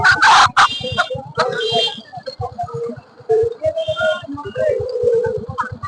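Chickens at a village market cluck and squawk loudly and up close in quick, uneven bursts, with several birds calling over one another.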